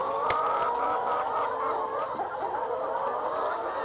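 Hens clucking and murmuring together in a laying hen farm in Tapin, a steady flock chatter with one brief sharper call near the start, no talk.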